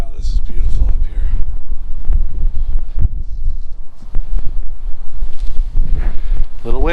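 Gusty wind on a ridge of the Lehigh Gap East Loop of the Appalachian Trail buffets the microphone with a steady low rumble, and a voice talks over it.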